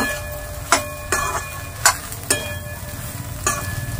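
A spiced mixture seasoned with red chili powder and salt fries in a pan, with steady sizzling under repeated sharp scrapes and knocks of a stirring spoon, loud and close.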